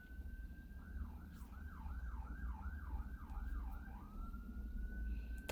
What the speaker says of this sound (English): I'm noticing that there is a siren nearby, which you might also be hearing